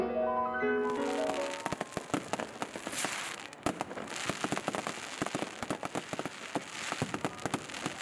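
New Year's Eve fireworks burst above Hallgrímskirkja church in Reykjavík, a dense, continuous crackle of many pops and bangs heard from a distance, after a brief musical fade at the start.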